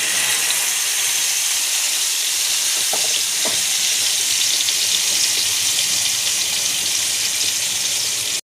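Fish roe (gaboli) dropped into a hot pan with lightly cooked garlic, a loud, continuous sizzling and frying hiss that holds steady for several seconds with a few faint knocks, no talking.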